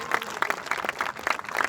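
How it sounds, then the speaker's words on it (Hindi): Audience applause at a large motivational event, a dense burst of many hands clapping in uneven rhythm, loud and near, with no voices over it. "शानदार ताली बजाइए"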